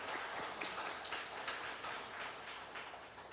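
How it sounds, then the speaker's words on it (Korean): A church congregation applauds together, a faint, steady wash of many hands clapping from a distance, continuing without talk. "축하의 박수 해주시기 바랍니다."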